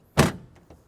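The door of a 1953 Nash Healey Le Mans coupe shuts with a single solid thunk, close up, followed by two faint light clicks.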